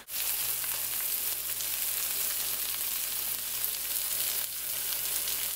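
Burgers sizzle in a hot pan on the stovetop, a steady close-up crackle of fat and juices that continues evenly without talking.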